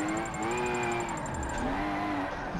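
A drift-tuned car engine in Forza Motorsport 7 revs hard after a clutch kick, a loud sustained tonal roar that rises and dips in pitch with a high whine on top, with no talking.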